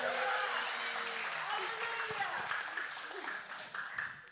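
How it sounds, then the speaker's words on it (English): A church congregation claps and cheers at a sermon, sustained applause at the start that slowly thins and fades over a few seconds, with crowd voices mixed in. "I just forced you guys to clap for my point."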